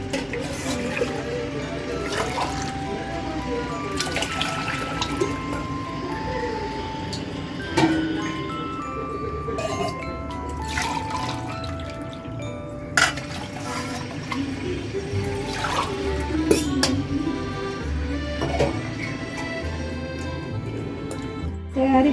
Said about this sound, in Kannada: 5 ಲೋಟೆ ನೀರು ಪಾಡು